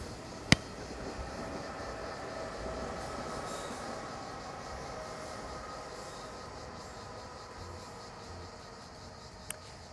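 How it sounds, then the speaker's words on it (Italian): A train passes at a distance as a low, continuous rumble with a faint metallic wheel hum, fairly quiet and steady, marked by two sharp clicks near the beginning and the end. "E invito quel treno a andarsene."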